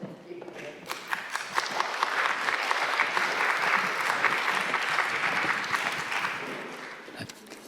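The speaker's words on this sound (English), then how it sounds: "Didn't expect applause." A church congregation bursts into applause for a welcomed guest, and dense clapping swells, holds steady for several seconds, then tapers off. Faint voices sit underneath the clapping.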